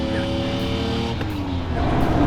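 Ford Bronco engine running loud and steady while driving, harmonic tones shifting partway through as gears change, with road and tire noise throughout.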